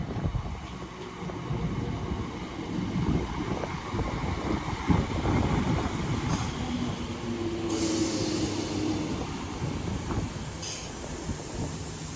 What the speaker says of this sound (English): Train now arriving is a 319 going to Liverpool Lime Street.